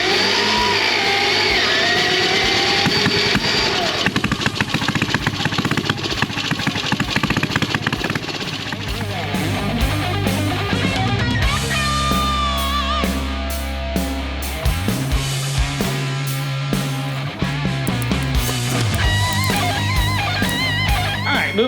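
A motorcycle engine cranks and catches, then idles roughly with occasional throttle blips, loud and near, without speech.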